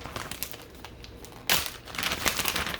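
A soft knit beanie dropped into a crinkly plastic packaging bag, with scattered rustles at first and then a sharp crinkle that builds into sustained, close handling noise.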